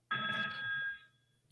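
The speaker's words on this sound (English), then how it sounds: "phone's ringing already" A telephone bell rings once, a bright sustained trill lasting about a second before it cuts off, clear and alone.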